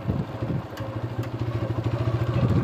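Close up, a motorcycle cruises along a riverside track with a rapid, regular thumping engine note and slight clatter, holding a steady pace the whole way.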